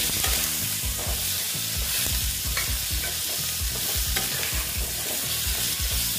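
Pointed gourd with turmeric fries in a wok, a loud continuous sizzle broken by frequent, rhythmic scrapes and clacks of a spatula stirring close by.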